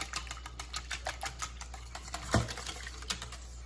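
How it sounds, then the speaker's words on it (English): French toast batter made with Kahlua, Bailey's, cinnamon, vanilla and almond extract is whisked in a bowl, giving rapid, even clicking taps close up with one louder knock partway through. "Whisk that up."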